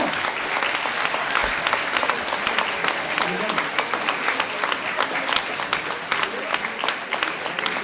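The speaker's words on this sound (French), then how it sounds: "vous pouvez l'applaudir encore une fois" A crowd applauds steadily, many hands clapping in a dense, sustained burst that carries through without pause.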